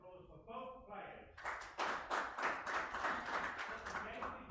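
A darts tournament audience breaks into a burst of clapping and applause that builds and holds steady, following a brief stretch of voice at the start.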